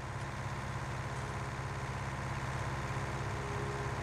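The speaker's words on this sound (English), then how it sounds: "the more it changes the engine noise." A steady, low tractor engine idle in Farming Simulator 19 on PS4 drones on with an even mechanical rumble, fairly quiet and unchanging throughout, with no voices.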